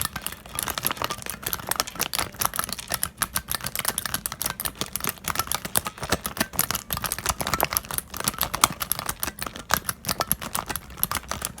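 Rapid, dense clicking and clacking of keys being typed on a squishy sprite keyboard, continuous and close-up with no talk.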